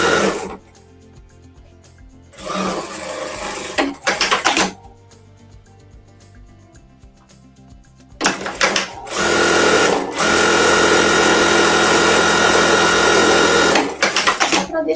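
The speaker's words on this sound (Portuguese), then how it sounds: "E vou passar uma costurinha, então, fechando, né, aqui essa abertura." A sewing machine stitches the opening of a carrot-shaped fabric ecobag in loud, close, steady runs of rapid stitching. Quieter gaps separate the runs, and a long continuous burst comes near the end.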